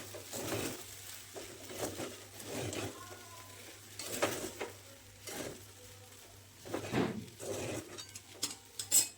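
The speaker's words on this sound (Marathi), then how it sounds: "आता जो आपण शेंगदाण्याचा कूट तयार केला होता, तो घालायचा आहे आणि परत एकदा हे चांगलं असं परतून घ्यायचंय" Sabudana khichdi mixed with crushed peanut powder is stirred and tossed in a pan, soft scraping and clinking strokes of a spoon in irregular bursts over a faint low hum, close and fairly quiet.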